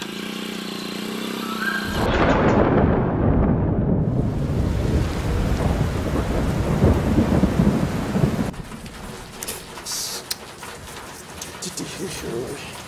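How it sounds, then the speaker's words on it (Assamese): Heavy rain pours down in a thunderstorm, a dense loud roar that surges suddenly and stays strong, with a low rumble of thunder, then eases to a thinner patter of drops near the end. "বৰ ডাঙৰকৈ বৰষুণ জাক আহিল"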